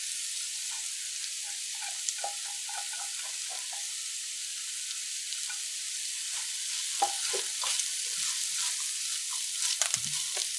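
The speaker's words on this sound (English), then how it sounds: "fried up here for about 30-45 seconds because your scallions and so on doesn't need long to be cooked" Scallion, celery, broadleaf thyme and pepper stir-fried in a pan for fried rice with baked chicken, a steady bright sizzle with scattered scraping stirs and clinks growing busier toward the end, no talking.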